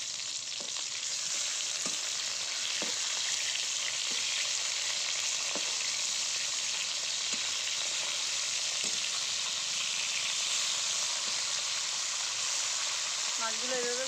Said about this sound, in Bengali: মাছগুলো এভাবে উল্টে পাল্টে ভেজে নেব ভালো করে।